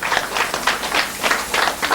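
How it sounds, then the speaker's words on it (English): An audience clapping at a gathering, a steady patter of many hands at moderate loudness with uneven bursts, no voices over it. "Let's clap for them as they do that."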